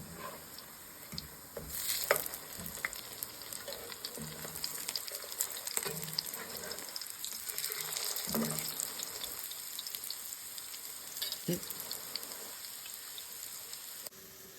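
Potato pancakes sizzle and crackle in a hot pan, a steady, quiet frying hiss with scattered pops throughout.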